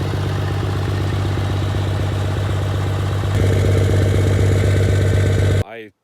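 Diesel truck with compound turbos and a 5-inch MBRP muffler exhaust idles with a steady low rumble, then steps up slightly louder before cutting off abruptly, with a brief voice at the end.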